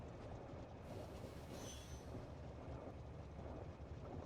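In Factorio, a train rumbles steadily along the rails in a continuous broadband roar, with a brief high metallic squeal partway through and no voices.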